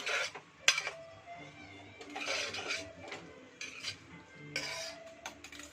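A spoon stirs carrot and drumstick curry in a pot, with quiet clinks and scrapes of metal on the pot coming in short irregular bursts, close but faint, no voices.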